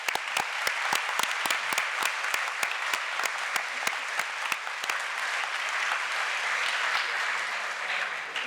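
An audience at a youth conference's opening plenary applauds the speakers with sustained, dense clapping, with a few sharper individual claps standing out near the microphone.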